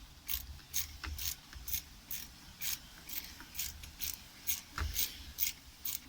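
A socket ratchet loosens the oil drain bolt on a 2006 Sea-Doo RXT personal watercraft, giving a steady run of about a dozen quick, evenly spaced clicking bursts that stay close and fairly quiet. No one speaks.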